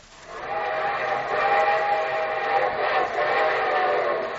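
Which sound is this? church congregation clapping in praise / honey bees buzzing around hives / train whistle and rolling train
train whistle and rolling train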